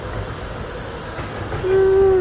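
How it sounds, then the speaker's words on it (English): A small miniature-railway steam train rumbles in close by, with a sustained whistle-like squeal rising near the end as it slows to a stop. "I've got to wait for the train to stop first."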